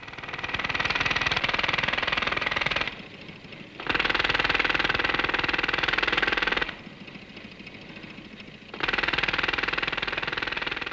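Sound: air compressor engine running

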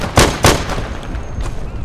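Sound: gunfire in the video game Day of Infamy

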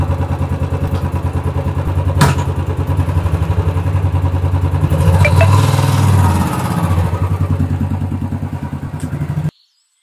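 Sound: motorcycle being started and ridden

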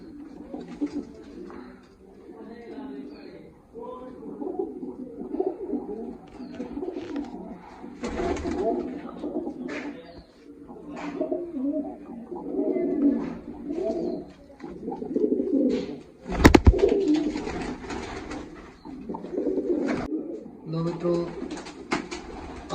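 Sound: pigeons cooing

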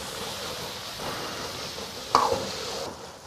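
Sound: stir-frying chili bean paste, ginger, scallion and garlic in oil

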